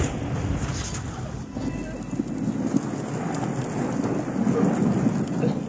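A thunderstorm in the shooter Warzone 2: dense, continuous rain hiss with deep rumbling thunder rolling underneath, steady and enveloping throughout.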